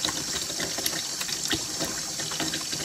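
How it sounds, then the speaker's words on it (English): A tap runs steadily as hands are wetted to lather homemade hot-process dandelion soap, a constant close splashing hiss with small irregular spatters. "Gonna get my hands good and wet,"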